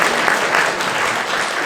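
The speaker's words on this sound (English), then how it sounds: "Give yourself a hand clap." A group at a school district transportation safety meeting claps for itself, a thick, even roll of many hands, loud and close, lasting the whole moment.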